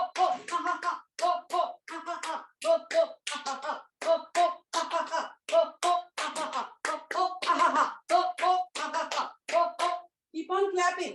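Steady rhythmic hand clapping during a yoga session, each clap landing with a chanted ho-ho-ha-ha-ha laughter-yoga syllable; voices and claps blend continuously, close and loud.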